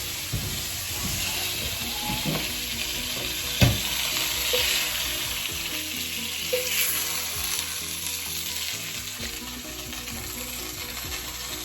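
Half-inch meat strips browning in a hot pan for cassoulet, a steady loud sizzle and crackle that runs without a break, with occasional faint clinks and stirring, no talking.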